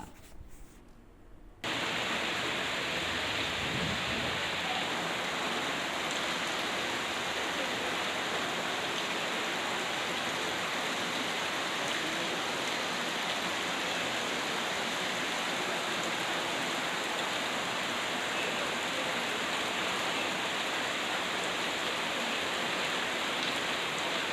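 Heavy rain pours on a village road in Ponnachi, Hanur taluk, Chamarajanagar district, with rainwater running along it like drain water; a steady, loud, close hiss fills the whole clip after a brief quieter start, with no talk.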